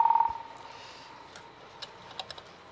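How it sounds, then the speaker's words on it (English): A telephone ringing-machine bell, heard faintly through the receiver of a test frame, gives a short tinny ringing burst at the start, followed by quiet scattered clicks and ticks. "that is just the sound of bell ringing through the receiver of the telephone"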